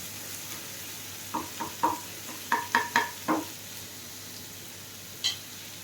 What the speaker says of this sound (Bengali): একটু ভেজে নিচ্ছি নুনটা দিলাম যাতে পেঁয়াজটা নরম হয়ে যায়